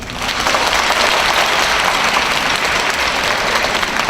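An audience at a Megastudy exam-prep lecture gives the lecturer loud, sustained applause, a dense, even wash of clapping that swells in quickly and holds steady.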